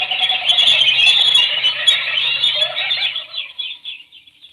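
A dense flock of birds squeals and shrieks loudly in a radio drama effect, a continuous high chattering mass that swells, then thins and fades away over several seconds.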